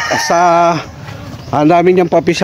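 Quality gamefowl and roosters on a breeder's farm, with two loud, close crowing or calling bursts separated by a short pause.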